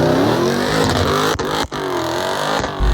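A Dodge Demon engine revs hard while driving, a loud, close, sustained roar with brief dips between pulls.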